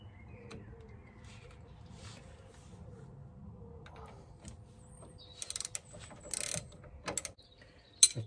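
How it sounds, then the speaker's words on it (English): Spanner tightening the ball joint on an MG TF rear trailing arm: quiet ratcheting and metallic clicks near the end, with a few short sharp bursts over low background rumble, close by. "And you can just tighten it up with a 90mm spanner."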